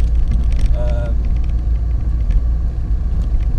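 Inside a Citroen labouring up a steep hill, a heavy continuous low engine drone and road rumble dominate, close and loud, with a short tonal whine early on.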